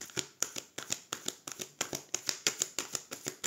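Tarot cards are riffled and shuffled by hand in a brisk, regular rhythm of crisp papery flicks, about a dozen evenly spaced bursts, close and alone without talk.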